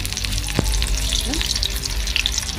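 Cauliflower pieces deep fry in hot oil in a kadai over a medium flame, giving a loud, dense bubbling sizzle with a single sharp clink partway through.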